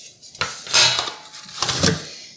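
Air fryer lid and basket from a Chefavor 7-in-1 air fryer grill being handled, a few close metallic clanks and rattling knocks in two bursts, no talking.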